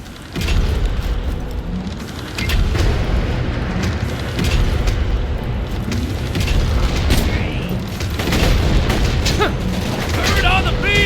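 A Skag-bound bomb blows a bank wall in Borderlands 2: loud, booming game blasts and crackling debris keep going for several seconds among other action sounds.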